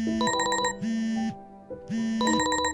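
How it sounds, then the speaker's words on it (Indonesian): A mobile phone alarm rings loud and close with a bright, repeating electronic melody, bursts of tone broken by a short pause before the tune starts again. "Tiba-tiba alarm di HP Naufal berbunyi"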